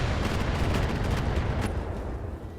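Trebuchet medium mech in the game Battletech unleashing a salvo of missiles: a dense, continuous roar of rapid launches and explosive blasts, loud and close, sustained for the whole stretch with no talk.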